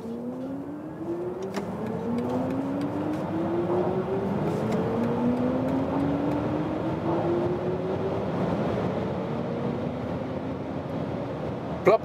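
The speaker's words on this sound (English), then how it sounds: "And now to the BMW iX Sport mode. And I also go from 40 kilometers an hour to the German Autobahn." A BMW iX xDrive 50 electric car accelerates hard in Sport mode from 40 km/h onto the German Autobahn, its rising electric whine climbing in pitch over steady road and wind roar, heard from inside the cabin without talk.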